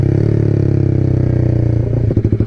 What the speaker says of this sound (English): That's my exhaust noise, but I think it's not really accurate.